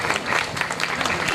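Audience applause breaks out at a centenary inauguration ceremony of a Durga temple in Kadamtala, honouring Bengal team players; dense, steady clapping from many hands fills the short moment without a break.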